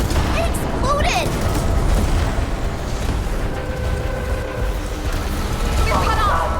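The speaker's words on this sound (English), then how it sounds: "It exploded!" An explosion in the video game Arknights: Endfield, a heavy rumbling blast that fills the scene with low booming noise, with character voices speaking over it.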